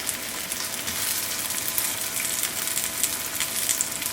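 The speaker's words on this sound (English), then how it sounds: "We're going to fry it on medium-high heat until it becomes golden brown from both sides." A spring onion pancake frying in oil in a pan over medium-high heat, a steady close crackling sizzle with small pops running throughout.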